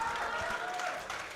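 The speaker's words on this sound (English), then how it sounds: "The crowd just rallied behind him this time." A crowd at a junior powerlifting championship cheers and claps for a lifter, a brief, close burst of applause and shouting voices.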